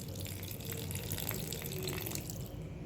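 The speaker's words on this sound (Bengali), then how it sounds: "এবার দিয়ে দিচ্ছি সর্ষে বাটার জলটা।" Mustard paste water is poured into a simmering bhola fish sour curry made with lemon, giving a soft, steady liquid trickle and splash at low volume.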